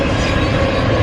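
A train rumbles past close by, a dense, steady roar of wheels and rail noise with a broad low-end drone filling the whole second, loud and unbroken with no talk.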